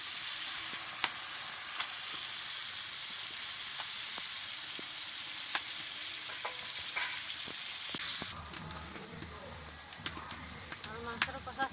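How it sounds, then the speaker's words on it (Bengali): Meat is sautéed kosha-style with spices and chopped tomato in a pan, giving a continuous frying sizzle with occasional stirring scrapes and clicks, softer and lower after a shift partway through. "মাংস কষা করার জন্য"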